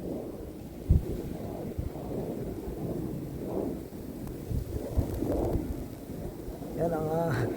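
A strong snowstorm in Montreal, a constant loud rushing roar of wind buffeting the microphone, with occasional thumps and a voice speaking over it.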